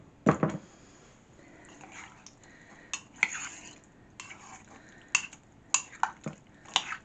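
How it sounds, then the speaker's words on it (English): Spoon scraping and clinking against a pot of sausage, tomato and rice while it is stirred, a few close, sharp clinks and scrapes spread irregularly over a quiet background. "And give it a stir."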